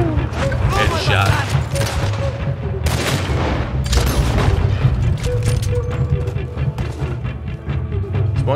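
Red Dead Redemption 2 gunfire on PS4: a dense, loud stream of booming shots and rapid fusillades fills the scene, with mechanical clatter and a player's voice heard over it.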